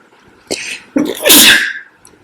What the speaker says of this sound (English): I'm sorry, sneezing.